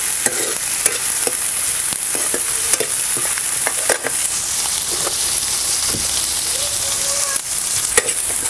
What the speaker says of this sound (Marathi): इकडे बारीक चिरलेले टोमॅटो घेतलेले आहे, हे घालून चांगलंसं मौसूद होईपर्यंत टमॅटोने आपल्याला परतून घ्यायचं.